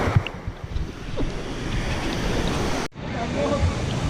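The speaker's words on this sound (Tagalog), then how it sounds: "Ito yung main area ng waterfalls, yung starting mula sa baba pataas, starting nila." Constant roar of rushing water at Kawasan Falls in Cebu, loud and broadband with wind buffeting the microphone, briefly cut by a short dropout before the steady rumble resumes.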